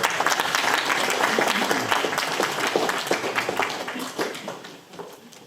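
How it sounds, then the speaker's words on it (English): An audience at a community meeting applauds a woman from an NHS trust, with dense clapping from many people in a hall that stays strong and then thins out toward the end, a few voices mixed in. "Let's give her a clap."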